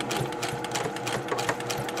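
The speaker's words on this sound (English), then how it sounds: "And now I'm going to start sewing." A sewing machine runs steadily, stitching quilt fabric with a rapid, even mechanical rhythm at moderate pace, heard alone without talk.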